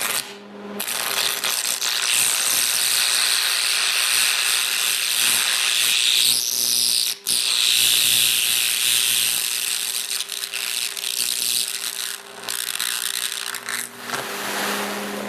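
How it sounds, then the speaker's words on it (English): A carbon arc torch set to 135 burns through a small metal plate with a loud, continuous crackling hiss and buzz, sustained for about fifteen seconds with brief interruptions. "I'm going to try and burn a hole right through this small metal plate here."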